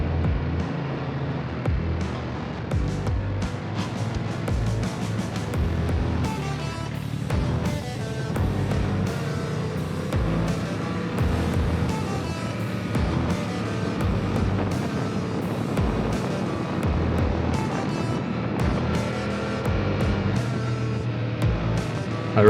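Motorbike ride on the Mae Hong Son Loop, a continuous engine drone with rushing wind buffeting the microphone, loud and close throughout, no talking.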